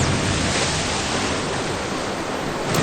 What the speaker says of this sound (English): And now all that water is rushed out and everyone's gonna die!